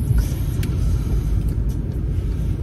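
Heavy, steady low road rumble from inside a car driving through morning traffic, loud and continuous with no talking.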